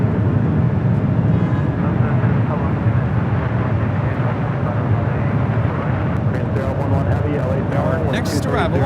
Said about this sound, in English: Delta Airlines 951 taking off to JFK on the